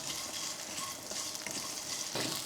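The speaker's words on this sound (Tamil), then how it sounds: "இது கூட ஒரு நூறு கிராம் அளவுக்கு சின்ன வெங்காயம் சேர்த்துக்கலாம் சேர்த்து அதையும் வதக்குவோம்" Small onions sauté in oil for a chicken curry, a steady close sizzle with faint stirring scrapes throughout.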